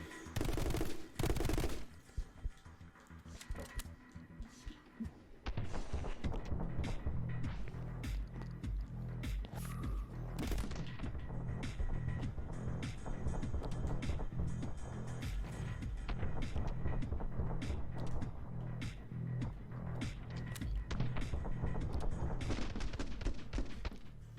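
Video game gunfire from My Friend Pedro, dense rapid bursts of shots layered over a steady game soundtrack, loud and continuous with no talk.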